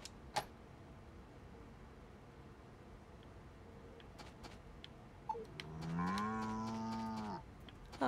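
A cow lows in the farming game Story of Seasons, one drawn-out moo rising near the end after a few soft clicks and a quiet background.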